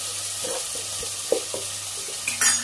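Tomatoes and turmeric powder dropped into a hot frying pan, giving soft sizzling with a few stirring clinks and scrapes, close and steady, no talk.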